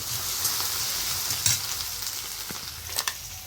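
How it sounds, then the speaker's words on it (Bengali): Chicken frying in a pan gives a close, steady sizzle with a few sharp crackles and stirring scrapes. "দিয়ে সুন্দর করে আমি এটা ভেজে নেবো বন্ধুরা চিকেনটা"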